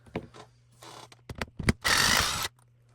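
Power tool zipping out 3mm bolts from the bottom of a Losi DBXL RC truck bumper: a few short mechanical whirs and clicks, then a louder sustained ratcheting buzz, close up with no talk.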